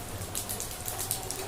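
Rain falls steadily during a shifting, cloudy spell of weather, a soft continuous patter of drops landing on surfaces nearby, with no voices.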